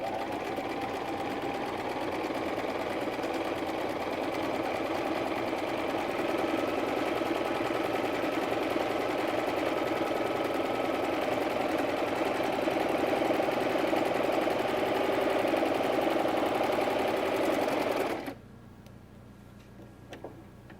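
A sewing machine runs continuously, sewing the side seams of a pair of pants with a fast, even mechanical whir, close up, before stopping abruptly near the end and leaving quiet room noise.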